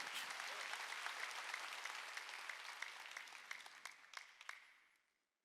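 A church congregation at a Wednesday worship service breaks into loud, dense applause that holds steady with a few sharper claps, then fades away to silence at the end.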